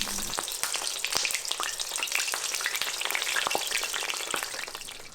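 Eggplant slices deep frying in hot oil, a close, dense crackling sizzle with sharp pops scattered throughout, steady from start to finish.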